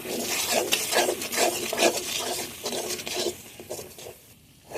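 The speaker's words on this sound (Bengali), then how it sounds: "হলুদের গুঁড়া দিয়ে দেব জিরে গুঁড়ো দিয়ে দেব বাটা মশলার সঙ্গে সব কিছু ভালোভাবে কষে নেব" Ground turmeric and cumin are stirred and scraped with spice paste in a pan while sautéing, giving repeated close rasping strokes that ease off near the end.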